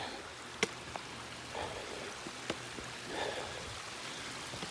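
Spring water flows out of the ground on a late-season hike near Grassi Lakes in Canmore, Alberta, making a faint, steady trickling rush with a few soft drips and taps over it.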